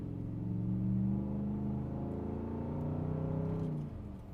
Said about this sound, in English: this is the noise inside the cab